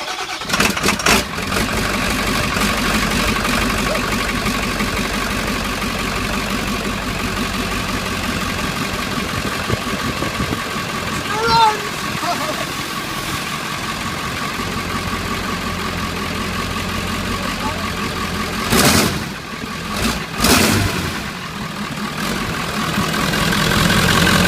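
An old body style Ford 7.3 Powerstroke diesel truck engine with no downpipe or exhaust clatters and roars loudly up close, running steadily with a couple of sharp revs near the end.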